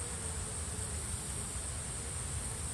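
Bees buzz in a steady, dense drone as guards defend a 5-frame nuc from a hornet, a close and constant hum with no pauses.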